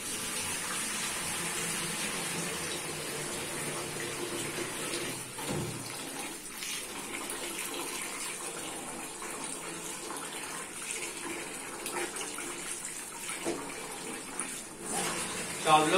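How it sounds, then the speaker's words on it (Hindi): Tap water runs in a steady hissing stream while biryani rice is washed by hand, continuous and moderately loud with a brief splashy shift partway through and a slight surge at the end. "इधर मैं चावल को धो लूंगा"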